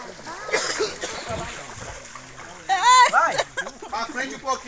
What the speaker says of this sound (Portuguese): E a lancha já tá dentro d'água, né?